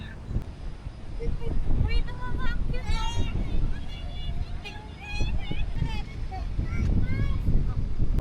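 Strong wind buffets the microphone with a steady roar and crashing waves at Mosboron Beach in Bacacay, while people talk loudly over it.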